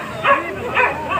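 A dog at a Nepali market gives three short yipping barks, close and evenly spaced, over faint background noise.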